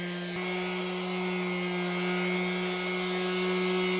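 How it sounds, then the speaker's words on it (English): Electric sander lightly rounding the edges of a bookmatched elm crotch bartop at higher grits, a steady close buzzing hum that runs unbroken throughout. "So I'll use the sanders to lightly break the edges as I get up into the higher grits."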